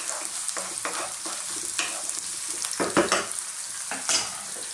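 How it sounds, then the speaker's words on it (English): Red onion frying in a pan with garlic, a steady close crackling sizzle broken by scraping stirs and a few louder clatters of the utensil against the pan. "And then I'm gonna drop in my onions."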